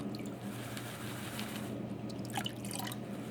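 Muddy, residue-laden water pouring off the edge of a gold pan while panning paydirt: a steady trickle with scattered drips and splashes over a low, constant hum.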